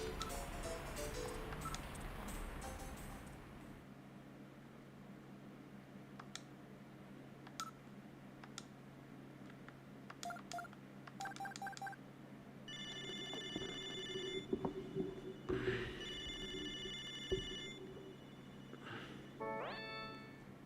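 Telephone dialing tones and ringing from the Sega CD video game Snatcher, a run of short beeping dial tones followed by repeated electronic ring bursts over a low background hum, with no talk.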